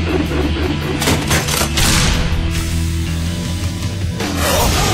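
Loud gunfire from a Cantonese action drama: sharp broadband blasts burst close by in quick succession, then another shot follows a moment later, with no speech.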